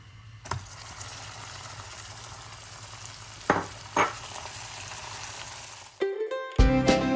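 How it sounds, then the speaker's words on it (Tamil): Hot caramel sizzles and fizzes in a pan as butter is added, a steady frying hiss with a few sharper bursts and stirring knocks before the sound cuts off near the end. "இப்போது நான் இதனுள் எடுத்து வைத்திருக்கும் பட்டரினை சேர்க்கப் போகின்றேன்."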